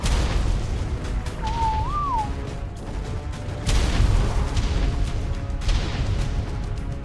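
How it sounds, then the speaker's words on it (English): Deep booming explosions roll out repeatedly from grenades hurled by the Dinopithecus King during a boss fight against an army of Amargasaurus in the game ARK: Lost Island, heavy low rumble with sharp bursts and a brief tonal cry. "Try to keep them away from those big grenades that the king is throwing up there"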